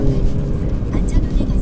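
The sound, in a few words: Mini Cooper S 2016 exhaust pops and crackles in sport mode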